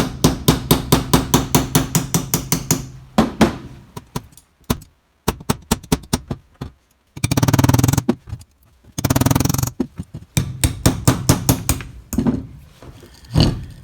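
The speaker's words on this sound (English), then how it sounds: "just been lightly tapping that out, trying to be very careful not to score or gouge, I guess, the race." Light hammer taps driving a bearing race out of a lift cylinder on a 1976 Case 450 crawler: rapid trains of sharp metallic strikes in bursts, with pauses and a few louder rattling passages, close and loud.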